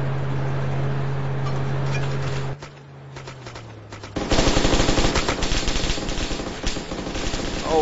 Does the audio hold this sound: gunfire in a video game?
yes